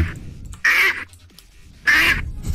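A person imitates a duck with two loud, nasal quacks spaced about a second apart, close up, with low room noise between them.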